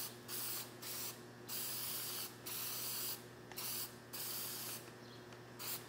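Spray paint from an aerosol can hissing in regular bursts as a stencil is painted onto a flat car hood, each spray lasting about half a second with short pauses between, close and steady.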